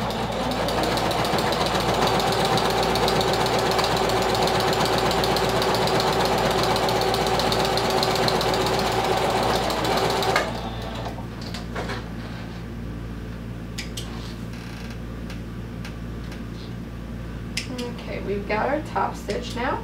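A domestic sewing machine top-stitches a vinyl wallet, its motor humming loud and steady for about ten seconds before it stops, followed by quieter handling clicks and rustles.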